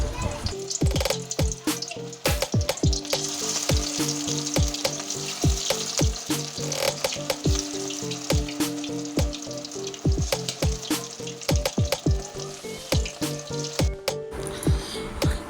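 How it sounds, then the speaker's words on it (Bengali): Marinated chicken pieces deep fry in hot oil in a pan, a loud bubbling sizzle broken by repeated sharp pops and spattering bursts, close by and continuing the whole time with no talking. "তেল হয়ে গেলে পুরো পকোড়ার মতন একটা একটা করে ভালো করে আমি ভেজে লাল করে তুলে নেবো"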